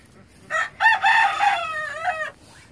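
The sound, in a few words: rooster crowing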